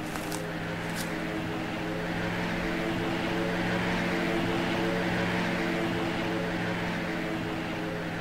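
Steady propeller-plane drone of an aircraft flying overhead in the survival game Rust, a constant loud hum with layered tonal bands throughout, no talking.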